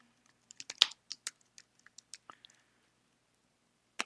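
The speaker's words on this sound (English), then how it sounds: "I'm going to type in Wyoming store." Keys clatter on a computer keyboard in a burst of quick, uneven taps, close and crisp, then fall silent before one last isolated keystroke.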